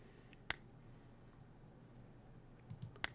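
Two sharp, faint computer mouse clicks about two and a half seconds apart in a quiet room, with a few soft rustles just before the second click.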